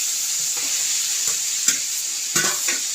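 Chopped onions sizzling in a pan with already softened tomatoes, a continuous hiss broken by several sharp stirring knocks and scrapes, close up with no voices.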